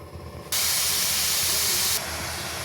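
Grated carrot and beetroot drop into hot ghee with a sudden loud hiss that holds for about a second and a half, then eases to a softer sizzle.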